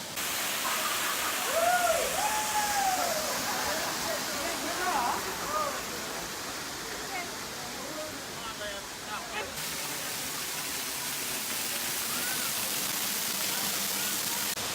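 Grotto Falls, a waterfall reached by a short mountain trail, sends up a constant broadband rush of falling water, heard from nearby, while someone talks over it in the first half.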